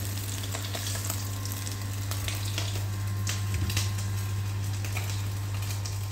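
Mumbar, stuffed intestines, frying in hot oil with a steady, dense sizzle and crackle throughout, close and fairly loud, with a low hum underneath.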